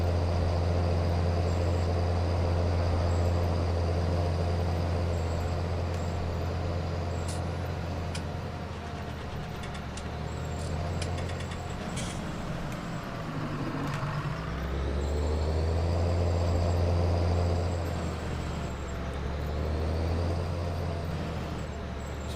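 A John Deere 7810 tractor engine in Farming Simulator 19 drones steadily up close, dipping and rising in pitch midway as revs change, with a deep low hum and scattered clicks, no voices.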